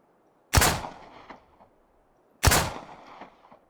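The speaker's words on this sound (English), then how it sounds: "This is of course the crafted SMG." A crafted SMG fires in the video game Miscreated. Two sharp, loud bursts sound about two seconds apart, each with a short rattling decay and no voices.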